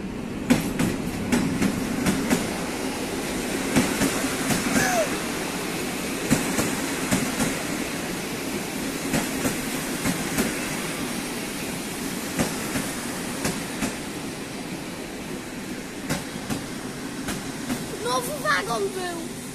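A TLK Kormoran passenger train pulls into a station close by with steady rumbling and rhythmic clickety-clack of wheels over rail joints, with scattered voices over the noise.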